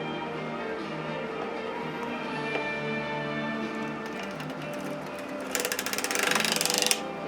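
A sock knitting machine is hand-cranked around, giving a soft steady mechanical whir with ticking needles, then a louder rattling burst of clicks toward the end.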